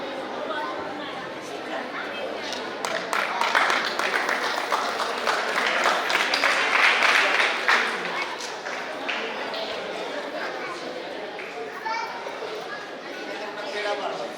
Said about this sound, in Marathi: टाळ्या वाजवा लोकांनी